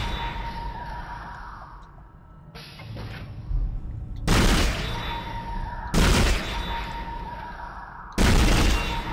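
Heavy weapon shots in the sci-fi horror shooter Dead Space, four loud booming blasts spaced about two seconds apart, each with a crackling tail, over a quiet humming ambience.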